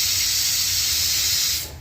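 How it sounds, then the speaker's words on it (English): A pressure cooker cooking kappa lets off a loud, continuous hiss of escaping steam at its whistle, sustained close-up for nearly two seconds before tapering off. "We are getting our first whistle now."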